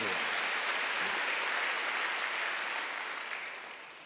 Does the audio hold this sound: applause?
yes